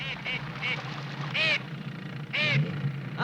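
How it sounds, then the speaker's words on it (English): Steamer duck calling: a few short quacks followed by two louder, drawn-out honking calls, spaced apart over faint background noise. "A steamer duck too heavy to fly paddles to hiding."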